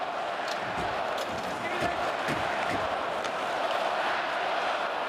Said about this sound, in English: Fired up crowd here in Ottawa tonight